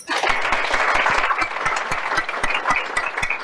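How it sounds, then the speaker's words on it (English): Audience applauding startup showcase participants, a dense steady clatter of many hands clapping nearby for the full stretch without letting up. "a round of applause for all of you"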